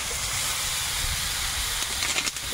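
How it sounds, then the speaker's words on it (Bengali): Small prawns drop into a pan of sautéed vegetables and sizzle steadily. The hissing stays continuous and fairly close for the whole stretch, with no voices. "সবজিটা ভালো করে কষিয়ে নিয়েছি, এখন এর মধ্যে ছোট চিংড়িগুলো দিয়ে দিচ্ছি।"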